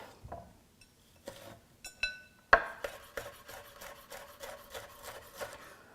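Knife finely mincing a Fresno pepper for a kale salad on a cutting board, a series of rapid dry chopping and rasping strokes that start sparse and turn into a dense, steady rhythm, close and fairly loud.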